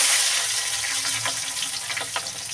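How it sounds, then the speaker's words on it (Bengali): Green chillies dropped into oil where cumin seeds have fried until reddish, giving a loud, steady hiss and crackle with a few sharper pops. "দেখো জিরেটা আমার লাল লাল করে ভাজা হয়ে গেছে এবার দিয়ে দেবো কাঁচা লঙ্কা"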